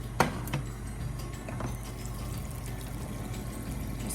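Water is poured into a sourdough starter mix, a short close splash and trickle that settles into a steady low liquid sound with a faint hum underneath.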